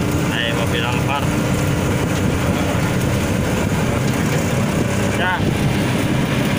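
Steady low engine rumble and road noise inside a moving Toyota Alphard in Jakarta traffic near GBK, continuous and droning, with brief voices and a faint chirp over it.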